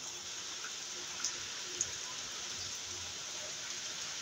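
Heavy rain pours steadily over a pigeon loft, a dense, even hiss with a couple of sharp drip clicks standing out, continuous and fairly close with no talk.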